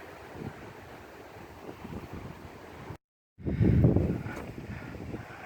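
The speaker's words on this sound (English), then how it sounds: "Yeah, it's really, really windy." Strong wind buffets the microphone outdoors in a park on a cool day, a steady rumbling roar with a brief dropout and then a louder gust.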